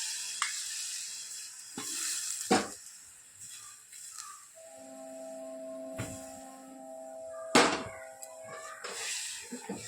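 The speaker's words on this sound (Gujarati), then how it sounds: "આપણે જે તુવરો કરી તે નાખી દઈએ અંદર." Cooked toor dal goes into hot, sizzling masala in a pan. A soft sizzle and stirring are broken by a few clanks of utensils and a sustained tone partway through.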